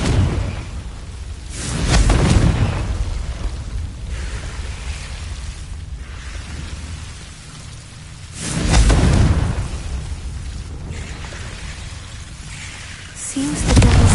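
Two heavy booming blasts from the Confringo fire spell in Hogwarts Legacy, each a loud rumbling explosion that decays slowly, followed by a third starting at the end, with no talk.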